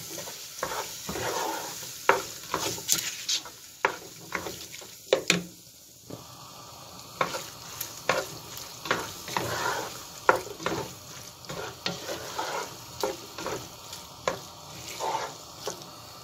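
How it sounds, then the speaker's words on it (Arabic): Grated tomatoes frying in a pan while chicken is readied for stuffing, a steady close sizzle broken by frequent scraping stirs and utensil knocks against the pan, with no talk. "هنزل بقى بالطماطمتين اللي انا بشراهم"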